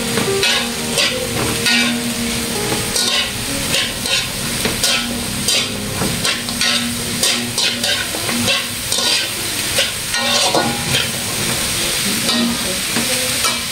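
String beans fry and sizzle steadily in a hot pan for a Filipino sautéed dish, with a continuous loud hiss broken by repeated scraping and stirring clicks throughout, with no talking.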